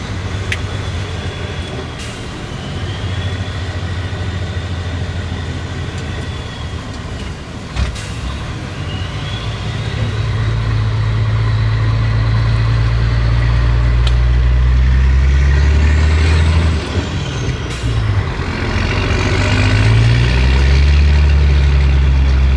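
A restored Norwegian Volvo F12 truck on a test run, its diesel engine droning loudly and steadily with low rumble rising as it pulls away and gathers speed, heard from inside the cab without talk.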